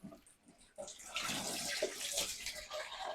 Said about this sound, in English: Rinse it down with hot water just to keep it clean and smelling fresh.